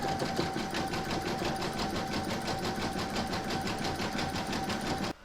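Embroidery machine stitching a satin-stitch border around a sunflower coaster or pot holder in the hoop: a steady, rapid needle chatter over a motor hum, close and continuous, cutting off abruptly near the end.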